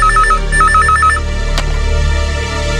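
A telephone rings with an incoming call in a Tamil TV serial scene: two loud, trilling bursts of ringing early on, then a steady background tone. No speech.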